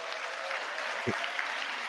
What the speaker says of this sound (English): all of them are clapping